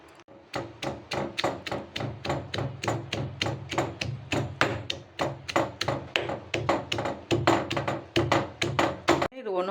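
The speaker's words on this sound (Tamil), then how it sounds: "மீன் குழம்புக்கு இந்த வெங்காயமும் இந்த இஞ்சி போட்டு தட்டிக்கலாம்" Onion and ginger are pounded for a fish curry with a rapid, steady series of about thirty close, loud thuds that keep an even rhythm throughout.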